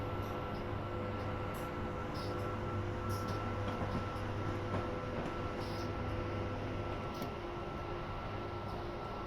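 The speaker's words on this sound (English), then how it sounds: "Now, 2 trains apparently making a stop here." Trains rolling in and stopping at a station on the Northeast Corridor in a train video game, a steady low rumble and hum of the cars with a faint tonal drone, continuous and fairly even throughout, no talk.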